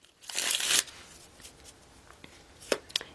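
Tarot cards being shuffled by hand, a loud riffling burst at the start followed by quieter taps and a couple of short shuffling flicks near the end.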